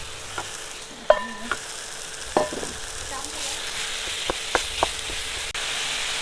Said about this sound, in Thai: พอเริ่มมีกลิ่นหอมแล้วเราก็จะใส่หมู หมูสับนะครับหมูสับ